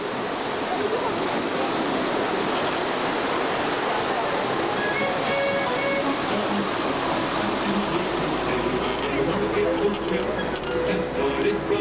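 Loud, steady rush of pouring water from a splash effect on a Universal Studios backlot tram tour, a continuous broad roar close by with faint voices mixed in.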